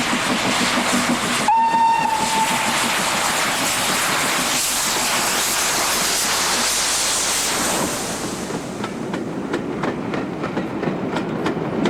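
A British Railways steam locomotive whistle sounds once, then the heavy rumble and chuffing of the train pulling away from Barmouth, a seaside town, continues loudly, rhythmic beats emerging as it moves off.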